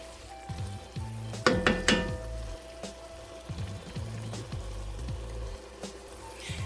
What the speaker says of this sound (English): Now let's stir in that Worcestershire sauce.